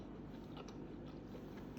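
Close crunching of a bite into crisp food after a dip, followed by a few chewing crackles, near and fairly quiet with no talking.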